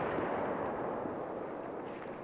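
A single shot from a bolt-action .338 rifle fired at a moose roughly 400 meters away in theHunter Call of the Wild video game, a broad booming report that rolls out and fades slowly, heard alone.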